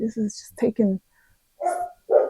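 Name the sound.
dog barking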